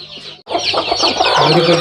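A native country hen clucks loudly and close by in a quick, continuous run of calls after a brief pause at the start, with a faint voice underneath.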